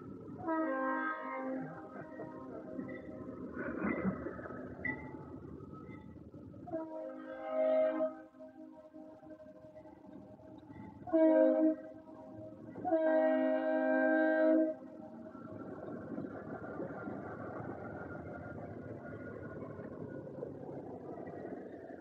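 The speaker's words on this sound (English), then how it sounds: "there's a train coming." A freight train rolls past on a line in southeastern Connecticut, its horn sounding in several loud blasts of varying length over a continuous rumble of wheels and cars.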